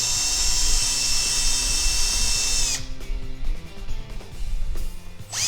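A drill drives a 1 5/8 inch deck screw through a hinge on a DIY ladder plant stand, whining loudly and steadily, then cuts off into lower rumbling motor sounds and scattered clatter.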